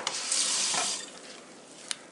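Tap water runs into a bowl for rinsing cabbage while making kimchi, a steady hiss and splash that fades after about a second, then a small clink.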